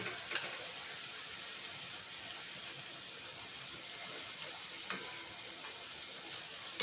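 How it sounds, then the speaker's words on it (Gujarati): Shakarpara dough pieces frying in oil on a low flame give a soft, even sizzle throughout, with a few faint clicks of stirring, fairly quiet and with no voices. "ધીમા તાપ પર જ આપણે અહીંયા શક્કરપારાને તળીશું."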